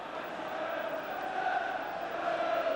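Steady crowd murmur filling a packed Old Trafford for a 1985 First Division match between Manchester United and Everton, a continuous loud roar of massed voices with no distinct chants or peaks.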